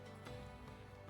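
Ducks in the medieval farming game Medieval Dynasty give a short, faint fowl call in a quiet scene.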